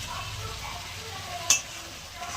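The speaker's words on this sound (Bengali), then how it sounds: "কষিয়ে নেবো মশলাটা ভালো করে" Spice paste of chili, coriander, cumin and ginger frying in a pan for a fish-head sour curry, a soft steady sizzle with a single sharp metallic clink of a spoon midway.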